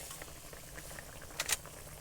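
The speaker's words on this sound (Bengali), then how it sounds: "ফুটন্ত মশলার মধ্যে ভেজে রাখা মাছ দিয়ে দিচ্ছি" Pieces of fried hilsa fish go into a bubbling spice mixture of chilli, turmeric and water, giving a soft, close simmering patter with a sharper splash-like crackle near the end.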